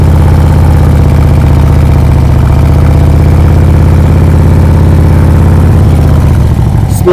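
A motorcycle engine idling steadily on loose ground during a clutch stop-start drill, a loud, close, even drone with a stable low rumble that barely changes for several seconds.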